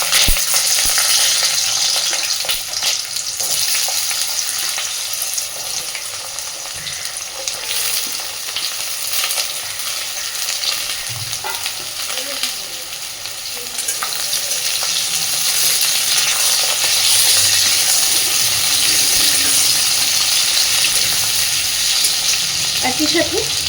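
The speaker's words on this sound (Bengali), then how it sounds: "তো এবার তেলের মধ্যে আমি এই কেটে রাখা আলু আর বেগুনটা দিয়ে দিচ্ছি।" Sliced potato and eggplant frying in hot oil, a loud, dense, continuous sizzle that swells and holds close up, with faint stirring underneath.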